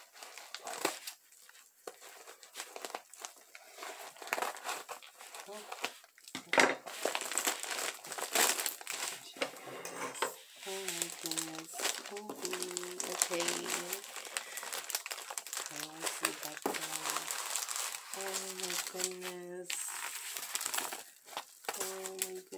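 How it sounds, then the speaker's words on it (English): Plastic package wrapping crinkles and rustles close by as it is opened and cut, a steady busy crackle with short gaps and some handling clatter, with faint voice-like tones in the background. "I'm gonna open up this package."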